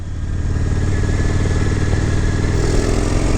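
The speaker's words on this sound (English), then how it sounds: "Love the sound of the exhaust" A 2016 Harley-Davidson FXDLS Dyna S motorcycle exhaust rumbling loud and close, a deep steady throbbing idle-to-cruise tone that holds evenly throughout with no voices.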